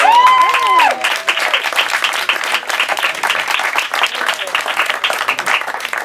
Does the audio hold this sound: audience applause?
yes